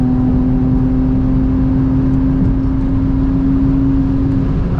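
A 500 hp 2022 Toyota Supra engine held at three-quarter throttle on a night street drive makes a loud, constant droning hum with a steady tonal whine and no break or talking.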